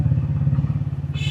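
A motorcycle idles and putters with a steady low throbbing rhythm, close and loud, on a city street near the historic Wazir Khan Mosque in Lahore.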